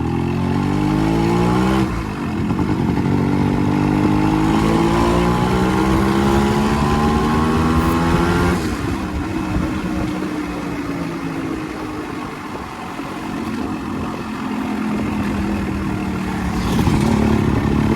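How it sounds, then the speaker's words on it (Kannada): A Yamaha RX135 two-stroke motorcycle engine revs up in rising sweeps, then drops back to a rough idle before revving again, loud and close, with no talking. "ಬರೀ ಗಾಡಿ ಸೌಂಡ್ ಅಂತ"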